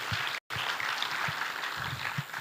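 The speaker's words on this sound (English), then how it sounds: "Let's give another round of applause even to Electa Foundation." Audience applause at a medical scientific conference, a steady wash of many hands clapping that fills the clip, with a brief dropout near the start.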